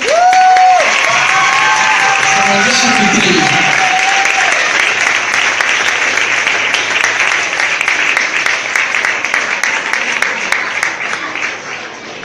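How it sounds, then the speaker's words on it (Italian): Audience applause for international guest performers arriving on stage, a loud, dense wash of clapping that runs throughout, with a voice speaking over the start and a brief harmonic tone early on. "Eccoli qua, un applauso."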